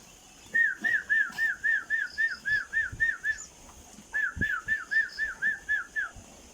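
A person whistles a quick repeated two-note phrase, about a dozen short chirpy notes, pauses briefly, then repeats the series; loud and close.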